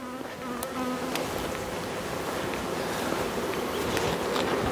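Honeybees buzz steadily around an apiary hive, a dense continuous insect drone holding close and even throughout, with a few faint higher tones above the hum.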